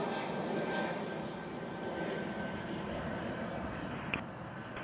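An airliner at Toronto Pearson airport, lined up for takeoff on runway 05, gives a steady broadband engine roar that holds level throughout, with a brief brighter swell near the end and no voices.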